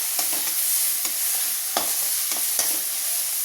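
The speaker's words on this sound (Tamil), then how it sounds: "வெங்காயம் தக்காளி நல்லா வதங்கட்டும்." Onions and tomatoes sautéing in a pan for lady's finger rice, a constant hiss of frying with a series of quick scraping stirs at an uneven rhythm, close and without talk.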